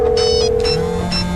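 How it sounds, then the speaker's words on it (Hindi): A loud electronic phone ringtone, a personalised Hindi name ringtone, plays steady tones with bright high-pitched pips that repeat in short bursts, with nothing else heard. "आपका फोन बज रहा है।"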